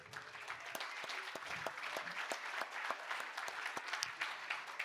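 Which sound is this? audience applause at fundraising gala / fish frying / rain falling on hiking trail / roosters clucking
audience applause at fundraising gala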